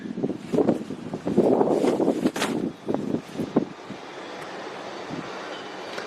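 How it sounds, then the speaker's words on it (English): Gusts of wind buffet the microphone in rumbling bursts at SpaceX Starbase, Texas, strongest early on, then settling into a softer steady whoosh. "Little bit of a windy day here."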